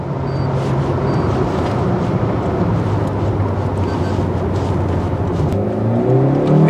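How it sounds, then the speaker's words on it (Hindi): A 2022 Maruti Suzuki Baleno facelift pulls hard at full throttle in fifth gear, its engine droning steadily and loudly with a constant road rumble, rising slightly in pitch toward the end. "फिफ्थ गियर में मैंने फुल एक्सेलेटर दिया हुआ है और गाड़ी यहाँ पर ये स्टेबल है"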